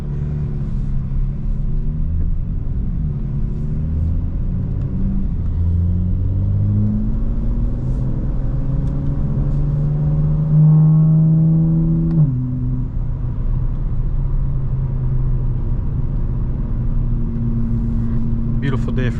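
A car with carbon ceramic brakes, running on a roughly E43–E44 ethanol fuel mix, drives along the road with a steady low engine rumble. A brief rising rev comes midway, and a voice speaks at times.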